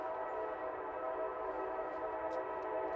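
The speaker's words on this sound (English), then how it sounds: "The train." A train rumbles past close by, heard from a suburban backyard in Greenville, South Carolina, a steady broad roar with faint high squeals and clanks, continuous and fairly loud throughout.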